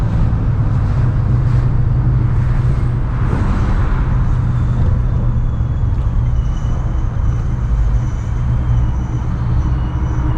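A supercharged Ford Mustang GT rolling slowly at around 30 to 40 mph on a leaking tire, heard from inside as a loud, steady low engine and road rumble with wind noise, unbroken for the whole stretch, with no talking.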